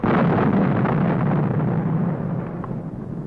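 Atomic bomb burst from a 1950 film on nuclear radiation, a loud, sustained broadband roar with a heavy low rumble that holds steady for about two seconds and then gradually eases off while staying strong.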